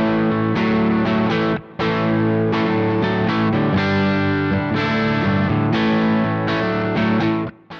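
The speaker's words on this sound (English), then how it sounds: "This one is the UK Drive and gives a vintage tone and the edgy distortion of a" Electric guitar played through a Vox amPlug3 UK Drive headphone amp, giving the edgy distortion of a 100-watt British stack: loud, dense overdriven chords and riffs with brief gaps, played alone.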